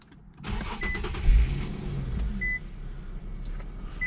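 An Infiniti Q50's 3.7-liter Nissan VQ37 V6 engine cranks and fires up close by, revs briefly, then settles into a steady idle rumble.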